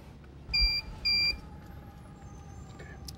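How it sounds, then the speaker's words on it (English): Two short electronic beeps in quick succession from an election ballot machine, clear above a faint background hum. "Those double beeps, that's what you want to hear."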